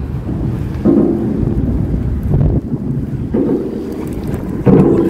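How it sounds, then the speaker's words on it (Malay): Strong wind gusts buffet the microphone on the Penang bridge during a fishing session, a steady low roar swelling in several loud surges with no voices. "Angin."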